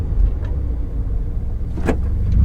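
Subaru WRX Limited pulling hard in first gear on a race track, engine note rising and loud from inside the car, with a brief whoosh near the end.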